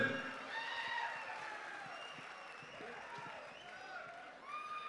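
Applause and crowd cheer at a film pre-release event as an audience greets Mr. Anil, a steady wash of clapping under loud overlapping voices and music for about five seconds.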